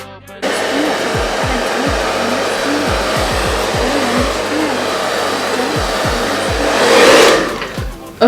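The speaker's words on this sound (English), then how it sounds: "So now I'm going to go ahead and blow dry this down." A hair dryer blows steadily on a frontal wig, a loud, close, continuous whoosh whose pitch shifts as the nozzle moves, with a brief surge near the end before it cuts off.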